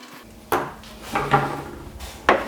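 Bolts and nuts are undone on a Commodore CBM 4032 PET monitor, producing a few separate close metallic clicks and knocks with quiet pauses between them.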